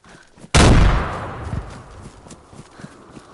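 A grenade detonates in the survival video game DayZ, a sudden loud blast with a long rumbling decay, followed by a smaller thud and scattered faint clatter.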